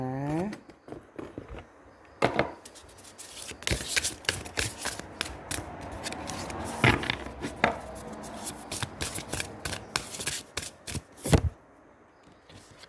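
Tarot cards shuffled and dealt by hand during a love reading, a long run of crisp riffling and slapping taps at close range, with a brief voice at the very start.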